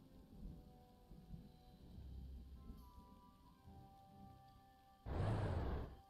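Rain and thunder in the WWII strategy game Panzer Corps 2 on a Normandy map: a steady low hiss of rainfall, then a loud, broad thunderclap rolls in near the end.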